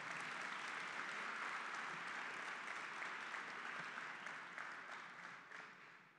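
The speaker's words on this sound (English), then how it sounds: "So please give Gary and his team a round of applause and thanks." Audience applause at a gallery opening reception for rare and iconic artifacts, a dense, steady crowd clapping that holds evenly and then tapers slightly toward the end, with no voices over it.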